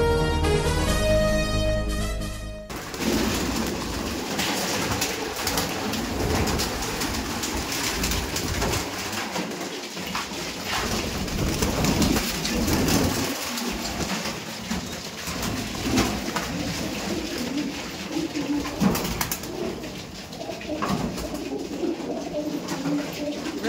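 Pigeons cooing in a loft, soft layered coos over a constant rushing background, with a brief tonal chime at the start and occasional light rustles.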